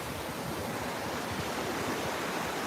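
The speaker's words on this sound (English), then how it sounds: "And the water just rushing in." Low, slow waves roll in at Fort Myers Beach, making a steady, broad rushing wash of ocean water with no distinct breaking crashes, heard alone without voices.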